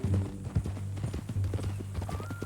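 A horse's hooves clip-clop in a steady walking rhythm in Red Dead Redemption 2, close and clear over a low ambient drone, with a brief faint voice near the start.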